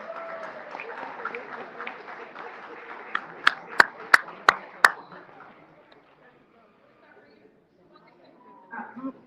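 Audience applause at a chess club award ceremony in a museum hall, a dense patter of many hands clapping with a few sharp louder claps standing out, fading toward quiet near the end, with talk mixed underneath.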